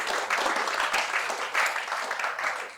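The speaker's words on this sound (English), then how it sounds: "I want us to give a round of applause to all the men in the building" A comedy show audience gives a round of applause for the men in the building, sustained crowd clapping that swells and pulses slightly, fairly loud and continuous with no talk over it.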